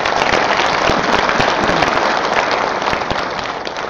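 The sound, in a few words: applause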